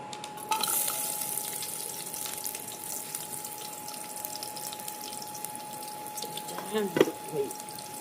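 Chopped onion goes into hot oil in a pot of village chicken on a wood-fired clay stove, setting off a loud, steady sizzle that fills the whole stretch, with a few spoon scrapes and clinks near the end.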